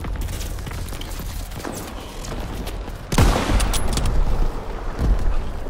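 Gunfire in the Call of Duty WWII multiplayer war game: a steady crackle of distant shots builds into a louder, denser fusillade partway through, with heavy low rumble beneath.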